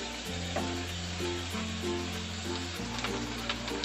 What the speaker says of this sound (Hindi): प्याज देखिए अच्छे तरीके से ड्राई हो गई है, भुन चुकी है प्याज